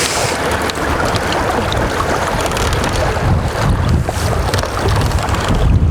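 Strong wind on rough Lake Orellana in Spain, heard from a boat, roars loud and steady and buffets the microphone, with water and wave noise underneath and no speech.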